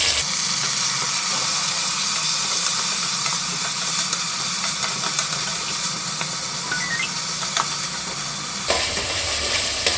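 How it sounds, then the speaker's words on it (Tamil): Tomatoes are added to a hot pan for rice pulao and sizzle with a loud, steady hiss of steam and frying, broken by a sharp stirring clatter near the end, with no voice over it. "ஒரு கப்பு தக்காளி போடுறேன்."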